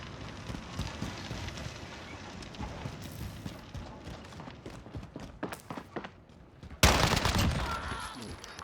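Rapid bursts of gunfire from a new weapon in the video game Warzone crackle in quick automatic volleys, followed by a sudden, louder blast near the end.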